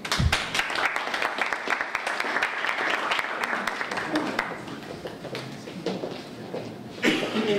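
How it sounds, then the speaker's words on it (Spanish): An audience at a literature forum applauds with sustained, dense clapping that swells then gradually thins toward the end, with a few voices murmuring. "Un aplauso."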